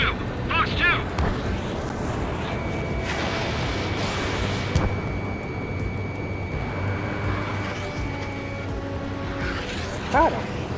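Missile launches and explosions in the jet combat video game Ace Combat 7, a dense roar of jet and blast noise with a steady tone and short warning beeps, under a speaking voice.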